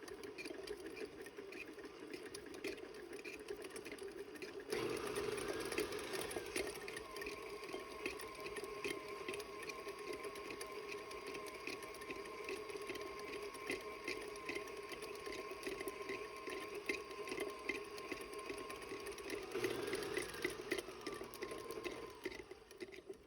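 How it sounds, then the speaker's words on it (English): An electric stand mixer creams butter on its own in a bowl for chocolate chip cookie dough, giving a steady mechanical whir that holds at an even level for most of the stretch, with a brief change in pitch near the start and end. "Creaming your butter means putting it in your mixer and letting it mix by itself so it loosens."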